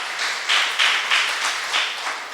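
A church congregation at a Sunday service claps together in a steady rhythmic beat, about seven soft, diffuse pulses in a reverberant room, moderately loud with no clear talk over it.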